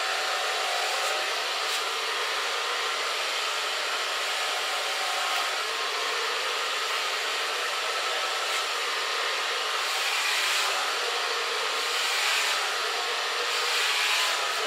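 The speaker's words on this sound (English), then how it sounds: "And this is the ionic blow dryer," An ionic blow dryer drying hair roars steadily and loudly throughout, a constant airy whoosh with no pauses and no talking.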